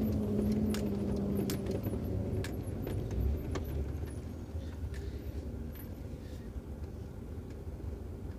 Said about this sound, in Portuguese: O caminhão passando na frente, bem na hora.